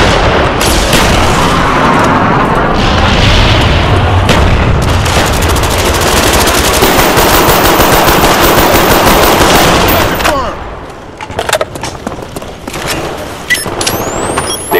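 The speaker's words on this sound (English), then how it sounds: "Bomb strike coming in." Loud, dense explosions and rapid gunfire from a bomb strike in Call of Duty: Black Ops multiplayer Domination on the Berlin Wall map, a continuous roaring barrage for about ten seconds that drops into scattered shots and rumble.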